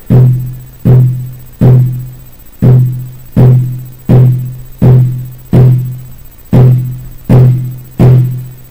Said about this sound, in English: So the Clave sounds like